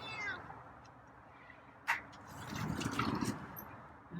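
A feral cat meows near dinnertime with a few fairly close calls at the start and a louder burst of meowing and rustle later, amid a quiet indoor room before its food of ocean whitefish and kibble.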